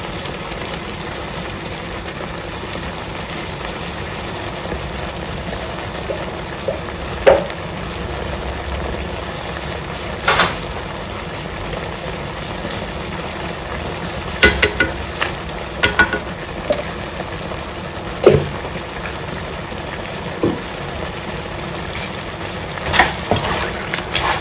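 Crab fries in masala for a ghee roast, producing a continuous sizzling hiss over a low hum, with occasional clinks and scrapes of a spoon stirring the pan.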